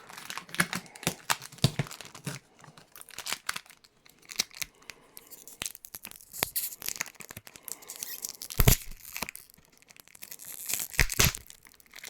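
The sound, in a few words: tearing tape off a package box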